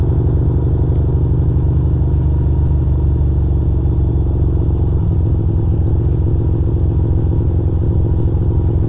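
A car rolls slowly along a road through Astoria Park, its engine a steady, close low drone that shifts tone about halfway through and carries on alone, with no voices.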